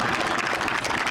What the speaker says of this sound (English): That seems applause-worthy.